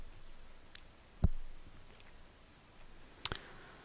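A computer mouse gives a few sharp, quiet clicks, one near the middle and a quick double click near the end, against a faint background hiss.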